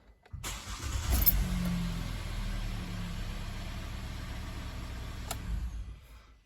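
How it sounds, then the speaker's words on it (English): A Hyundai ix35 petrol engine cranks and fires after a brief starter whirr, then settles into a steady close idle with a faint click near the end, heard alone just after an oil and filter change. "I'm going to start the engine now."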